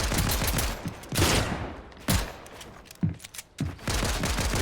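Rapid bursts of video game gunfire crack out in several loud, close volleys with short pauses between them, no talk over the shots.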